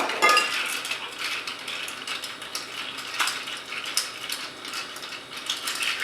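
A cocktail being stirred with ice in a mixing glass, giving a steady run of light clinks and rattling taps, close and fairly quiet, with no talking.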